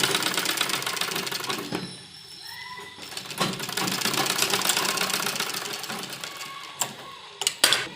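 A sewing machine runs in steady stitching bursts along the seam joining a sleeve to the fitted body of a kurti made from an old dupatta, with brief pauses and a few sharp clicks near the end.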